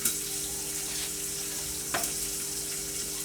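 Meat frying in a pan gives a steady broadband sizzle throughout, with a couple of brief clatters or stirs near the start and about two seconds in.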